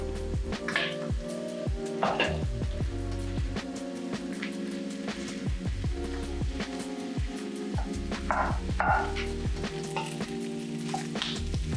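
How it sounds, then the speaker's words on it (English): Cooked rice frying in a pan with kimchi and bacon, steadily sizzling while a wooden spoon breaks it apart and stirs it with repeated scraping strokes, close up and without talk. "add in your cooked rice and break it apart with the wooden spoon"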